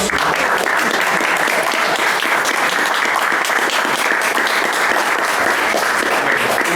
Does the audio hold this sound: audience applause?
yes